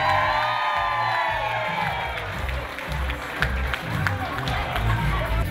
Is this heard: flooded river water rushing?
no